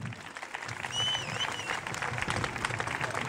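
An outdoor crowd applauds a historical costume group at the 2014 Erice medieval festival in Sicily. The clapping is steady and moderately distant, with a brief whistle rising above it partway through.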